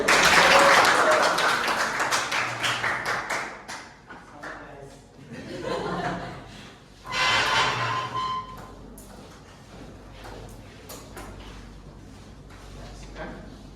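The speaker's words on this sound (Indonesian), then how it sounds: "Tepuk tangan dulu." A classroom group claps in a short burst of applause that fades within a few seconds, followed by scattered laughter, shuffling and quiet talk in the room.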